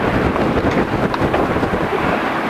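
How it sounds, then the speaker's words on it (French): Wind buffets a sailboat at sea near Swansea, a loud continuous roar with gusty rumble pressing on the microphone throughout. "On a du vent."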